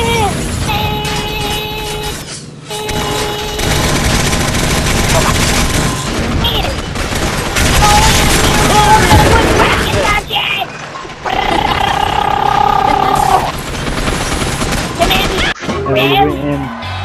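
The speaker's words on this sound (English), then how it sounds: "Mama's here with the machine gun!" Machine gun fire in Gotham City Impostors during a team deathmatch on The Docks map, sustained loud bursts with explosions and mechanical clatter mixed in, under excited talk throughout.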